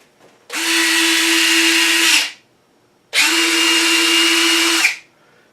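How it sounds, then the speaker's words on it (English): Retractable landing gear on an FMS Falcon RC plane cycles twice on a bench, each time a close, steady electric whir of the retract servos lasting under two seconds, with a short pause between runs. "So let's deploy the gear on this."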